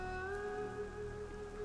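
Steady rain falls in The Sims 4 game, a soft continuous patter under a sustained tonal musical drone, with no voices.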